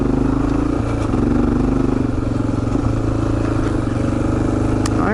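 Steady engine drone of a 2004 Honda XR400R motorcycle ridden off-road through woods, loud and continuous with rattling and clatter from the rough trail, no talking.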